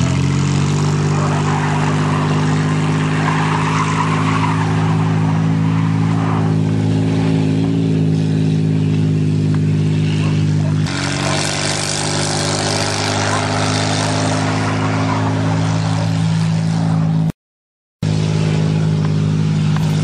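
A 4x4 all-wheel-drive caravan and a 2wd Voyager van locked in a tug of war on a farm, their engines droning steadily and loudly at sustained high load, with a brief dropout near the end.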